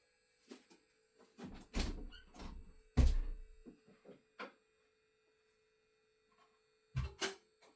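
A Nakamichi Dragon cassette deck has its door opened and a cassette loaded, giving a few sharp clicks and clunks with short mechanical rattles in between, close by and fairly quiet against a faint steady hum.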